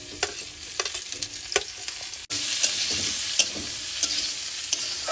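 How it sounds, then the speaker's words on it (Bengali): Potatoes fried with onion, tomato and green chillies in a pan give a steady, close sizzle, broken by repeated scraping strokes of a stirring spoon. "সবকিছু ভালোভাবে ভেজে নিয়েছি"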